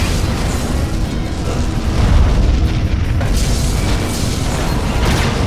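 Loud, sustained rumbling blast from a Romulan ship blown apart in the Star Trek: Legacy space combat game, a dense booming roar that swells midway and holds steady throughout without speech.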